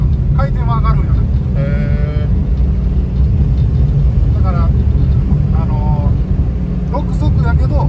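A Toyota AE86 engine drones steadily and loudly at low pitch from inside the moving car, fitted with a 4.1 final drive, while two people talk over it throughout.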